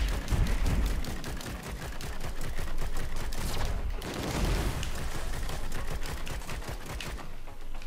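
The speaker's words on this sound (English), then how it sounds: "Dude, I'm gonna be shooting on this thing like forever." Rapid gunfire in Risk of Rain 2 rattles on almost without pause, dense bursts of sharp shots hammering in a fast steady rhythm for several seconds, loud and close, with heavier thuds mixed in.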